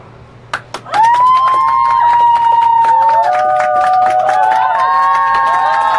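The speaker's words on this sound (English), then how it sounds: "And the crowd goes wild." A sports crowd cheers loudly and steadily after a winning shot, with whoops and shouts rising above a dense roar that swells and holds after a couple of brief sharp sounds at the start.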